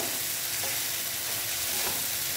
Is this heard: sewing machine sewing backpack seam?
no